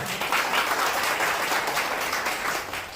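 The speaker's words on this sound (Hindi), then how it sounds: "बस जोरदार ताली बजाओ" An audience at a success seminar breaks into loud, continuous applause, a dense even roar of clapping that holds for the whole stretch and eases slightly at the end.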